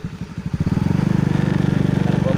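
A motorbike engine with a child aboard, a steady close chugging putter that rises and settles into a fast rhythmic pulse, with a voice heard briefly at the start.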